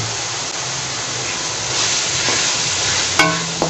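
Beef masala is stirred and mixed in a pan, a steady wet sizzle and scraping churn running throughout, close and fairly loud, with a sharper clink of the utensil near the end.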